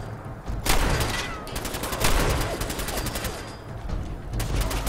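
Rapid gunfire bursts in Fallout 4, sharp repeated shots in quick clusters over a dense game background, fairly loud and without talk.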